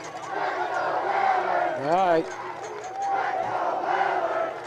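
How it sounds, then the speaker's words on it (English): A student crowd cheers and chants at a high school football game, a broad, continuous roar from the stands with a brief shout rising in the middle and an announcer speaking over it. "The student body over there cheering, "Let's go Whalers.""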